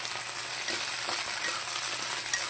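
Chicken liver and tomato frying in a pan, Tamil Nadu style, a close, continuous bright sizzle with soft crackles and no voices.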